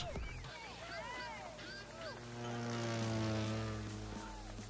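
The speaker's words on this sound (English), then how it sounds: "what we're going to start off with first is just a regular airplane" A propeller airplane in the racing game The Crew 2 drones steadily with a rising engine tone, joined by swooping whistling effects and a loud voice talking over it.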